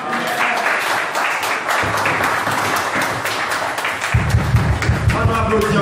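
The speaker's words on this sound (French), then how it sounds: "On applaudit encore une fois bien fort" A church congregation claps together in a lively, sustained round of applause, dense and fairly loud, with a low voice or instrument sounding beneath the clapping toward the end.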